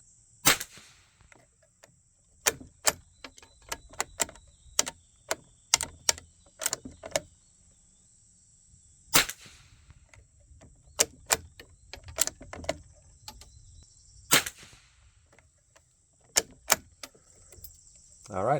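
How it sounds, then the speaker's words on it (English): A .22 rifle fires a three-shot group of CCI Standard ammunition: three sharp, loud reports spaced several seconds apart, with someone talking and lighter clicks and handling noises between the shots. "These are going to be 3-shot groups."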